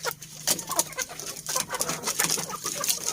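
KUB chickens clucking nearby in a flock, continuous overlapping soft clucks and calls, moderately loud with no talk.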